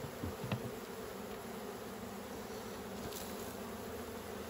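Honey bees buzz steadily around an open hive at an apiary, hives troubled by beetles; the dense, continuous drone stays close and even throughout, with a few nearer individual bees passing by.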